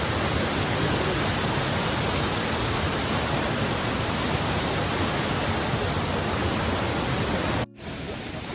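Kravica waterfall in Bosnia and Herzegovina pours as a steady, dense broadband roar filling the scene, loud and continuous, then briefly cuts out near the end before resuming.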